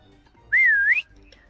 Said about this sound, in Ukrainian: Я б посвистів би ще два рази, якщо можна